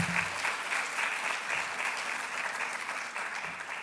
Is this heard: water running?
no